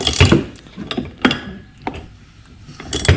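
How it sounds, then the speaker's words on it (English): Ratchet and wrench turning on a Craftsman 29cc edger to change its blade, heard as several separate clicking ratchet bursts with short pauses between them, close up and moderately loud. "This time I'm going to go left with my ratchet and right with my wrench"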